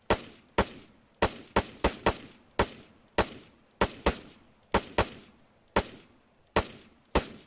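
Blind-fired gunfire in Arma 3 rings out as about sixteen loud, sharp single shots at an irregular, fairly quick pace, each with a short decaying tail, with no talking.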